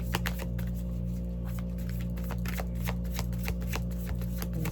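A deck of tarot cards is shuffled close by, giving a rapid, continuous run of soft riffling flicks and snaps with no voice.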